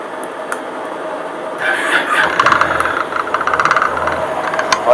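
Honda Silver Wing motorcycle engine cranking and catching, then rough, rattly idling with irregular knocking pulses, heard up close.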